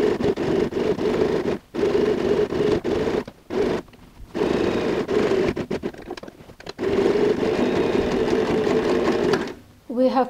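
A sewing machine stitches a handbag's lining along the edge of its binding, running in a loud steady whir broken by several short pauses, with talk heard over it.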